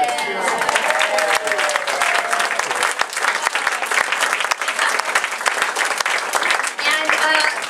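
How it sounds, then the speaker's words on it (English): A live audience at a spring radio-show recreation event applauds continuously, dense and loud with sharp individual claps standing out, and a few faint voices mixed in. "How about a round of applause"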